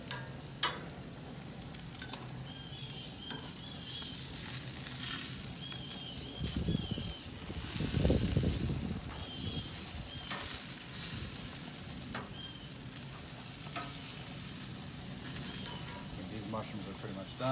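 Mushrooms and small sweet peppers sizzle steadily on a Hestan grill, a soft, continuous crackle with a few louder spits and occasional light scraping.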